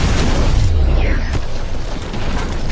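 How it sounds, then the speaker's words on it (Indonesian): A bomb explodes in a house, a loud, close boom with a deep rumble that rolls on, followed by crackling debris and a lingering roar. "Terjadi ledakan besar"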